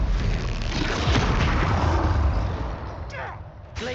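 In Hogwarts Legacy, a Confringo blast curse explodes in a loud, dense rumbling burst that fills the first few seconds, then fades into lighter magical whooshes.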